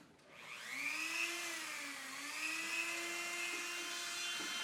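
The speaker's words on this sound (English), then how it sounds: "And this is a Dremel." Dremel rotary tool carving V-shaped detail into a wooden eagle head cane, a steady high-pitched whine that rises and dips slightly in pitch as the bit bites into the wood, loud and close with no talking.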